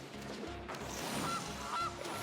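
Goose honks ring out in the MTG Arena card game as a Goose card is cast, two short bright honks over a low rhythmic game soundtrack.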